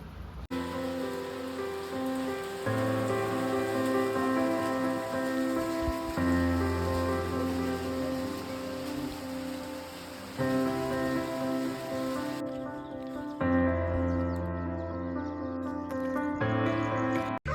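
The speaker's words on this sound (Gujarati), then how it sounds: "પહેલો વરસાદ આવી ગયો છે." The season's first rain falls in a village, a continuous close patter on surfaces that persists under a steady tonal hum.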